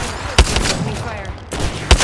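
Apex Legends gunfire in a short battle-royale firefight: two sharp close shots about a second and a half apart over a steady mechanical hum, with faint voice chatter underneath.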